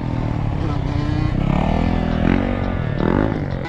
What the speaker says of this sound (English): Homie's coming in on a go-kart.